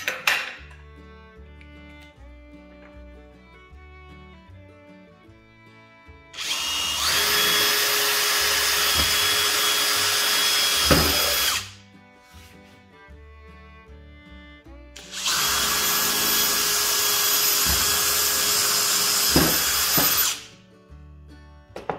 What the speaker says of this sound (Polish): Otwory wywiercone.